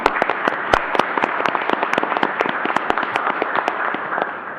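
A council chamber audience gives a round of applause for young men honored at a city council meeting, dense sustained clapping with sharp individual claps, fairly close and slowly tapering off near the end.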